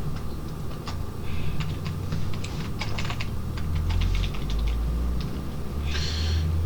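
Rapid, uneven clicks of a computer keyboard being typed on nearby, coming in short bursts with brief pauses over a low room hum, no voices.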